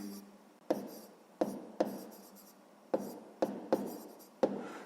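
Handwriting on paper, jotting down a sixth-grade maths answer, produces soft scratchy pen strokes marked by crisp taps as each stroke starts, close and quiet, with no voices.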